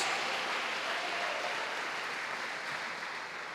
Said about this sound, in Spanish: Dale un aplauso para el Señor, aleluya.